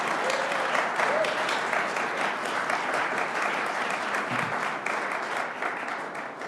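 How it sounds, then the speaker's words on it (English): Audience at a business competition gives a sustained round of applause welcoming the panel of judges, dense steady clapping from a sizeable crowd throughout. "So please give a round of applause and welcome to our panel of judges."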